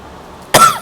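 A single sharp cough from a man with an itchy throat, close and loud, bursting abruptly after a near-silent moment.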